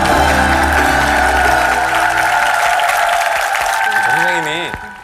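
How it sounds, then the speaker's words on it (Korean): A studio audience on a KBS variety show claps in a loud, dense wash of applause that holds steady and then fades out as a voice begins speaking. "박수를 보냅니다."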